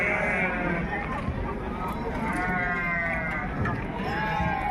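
Sheep bleating at the Gudur livestock market, several wavering bleats overlapping amid steady crowd babble and trading noise, close and fairly loud throughout.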